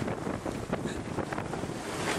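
Squall wind buffeting a sailboat at sea between Nouméa and Santo, gusting around 31 knots: a loud, steady broadband roar of wind on the microphone with wave wash, continuous and close with no talk.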